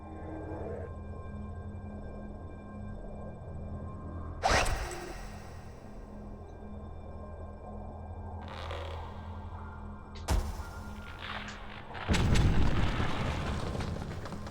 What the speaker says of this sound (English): Perhaps if I try to break off a stalactite.